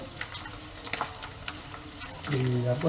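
Food sizzles and crackles in a hot pan as onions, garlic and soy sauce are sautéed, with a few scraping stirs and a brief voice near the end.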